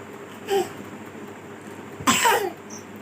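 Two short coughs from a child with a cold, one about a second in and a louder, harsher one near the end, with quiet room noise between them.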